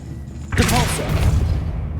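Casting a repelling spell in Hogwarts Legacy gives a sharp magical burst and booming thump, then a rumbling, crackling tail that holds steady, with a voice faintly mixed in.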